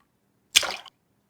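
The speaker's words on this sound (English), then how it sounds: "we've added splash sound to water" Single short water splash sound effect in a video game scene as a character jumps into water, a brief bright burst lasting about a third of a second, surrounded by silence.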